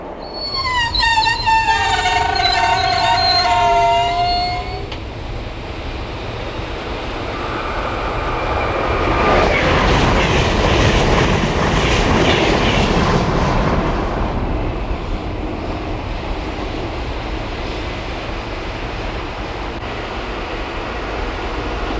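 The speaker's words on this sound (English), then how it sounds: "the trains continue to roar up and down the Northeast Corridor" Trains on the Northeast Corridor near Levittown: a horn sounds early, then a train roars past, swelling loud with rumbling wheels and rail noise before fading into a steady distant rumble.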